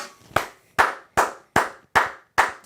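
Six sharp hand claps ring out alone at an even, slightly slow rhythm, close and distinct.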